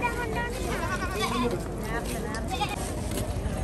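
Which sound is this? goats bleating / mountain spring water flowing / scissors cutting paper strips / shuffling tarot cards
goats bleating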